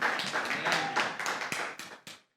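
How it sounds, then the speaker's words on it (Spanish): A church congregation claps together in a burst of applause, brisk and fairly close, fading out and stopping abruptly at the end. "Dile un fuerte aplauso al Señor."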